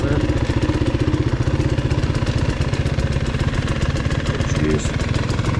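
A 2022 GasGas EC300 motorcycle engine runs at a steady, rapid idle, a loud, close, evenly pulsing rumble that holds without a break.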